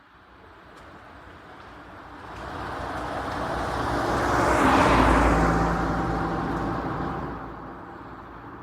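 A car drives along a road, its engine and tyre rumble swelling steadily to a close pass in the middle before fading away again, with no talk over it.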